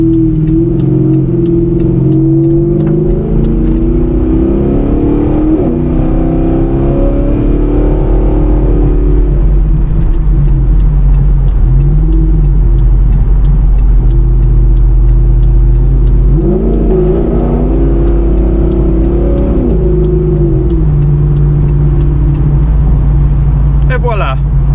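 A Pontiac G8 GT on its old exhaust setup rumbles loudly from inside the car, its engine note rising and falling through several accelerations across a long, continuous stretch.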